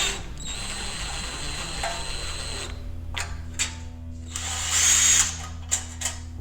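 A ratchet loosens the bottom clamp bolt on an exhaust hose during a Challenger cat delete install, a steady mechanical whir giving way to short clicking bursts, close up with no talking.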